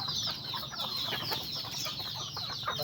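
Chicks and chickens clucking steadily while being fed scattered feed on a farm, a busy close chorus of soft clucks and chirps with no talking.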